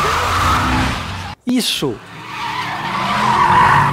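A car races in a police chase in Need For Speed: The Run. A loud engine roar cuts out briefly, then a sharp tire screech rises and bends, with someone shouting over it.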